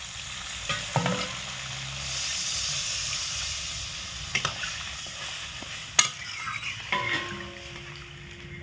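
Potatoes and flat beans fry in a pan with a constant sizzle and hiss, broken by several sharp scraping clatters as they are stirred. No one speaks.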